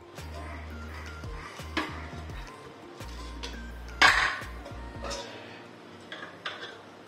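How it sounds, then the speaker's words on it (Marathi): Metal utensils clank and scrape against a tempering pot in a series of sharp knocks, with soft wet plops as cooked kidney beans drop in, close and fairly loud. "तर हा आपण तडक्यामध्ये टाकतो"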